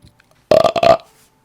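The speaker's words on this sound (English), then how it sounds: "Okay, that was a weak burp." A short, loud voiced burp close to the microphone, about half a second long with a rough, buzzing texture, heard alone.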